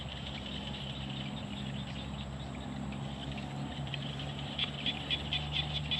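Frogs call from rice fields at sunset as a steady, dense chorus that fills the background, with a low engine-like hum underneath and a few louder chirps standing out near the end.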